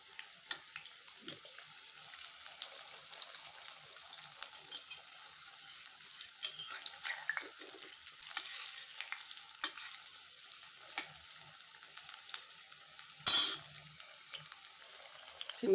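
Onion and masoor dal pakoras fry in hot oil with a steady, quiet crackle and sizzle, broken by occasional louder pops and clinks, and no voices.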